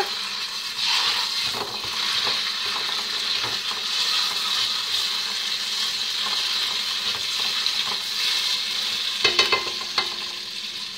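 Tomato paste sautés in a pan on the stove, giving a steady, close sizzle with occasional stirring scrapes. A brief clatter comes near the end.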